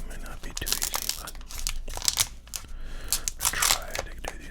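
Crinkly plastic wrapper of a baseball card pack being torn open and crumpled up close, in short bursts of sharp crackling rips.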